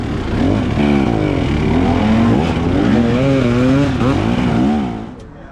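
A pack of dirt bikes launching at the start of a hare scramble race at Riverglade, New Brunswick: a loud, close roar of engines revving and rising and falling in pitch together, then fading at the end, with no talking.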